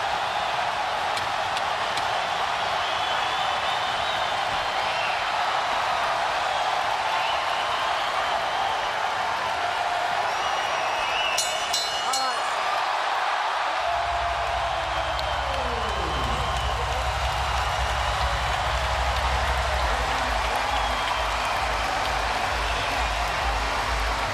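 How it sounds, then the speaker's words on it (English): Boxing arena crowd in Macau cheering and roaring, a dense sustained wall of noise with a brief burst of sharp clicks partway through and a commentator's voice running underneath. "The crowd loves it."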